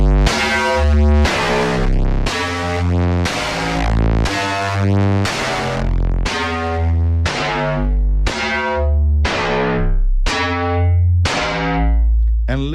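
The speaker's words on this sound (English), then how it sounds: "Okay, let's decrease the ratio now." Deep, buzzy FM synthesizer notes repeat about once per second, each decaying quickly, with a shifting metallic, bell-like tone over a heavy low end as the ratio is decreased.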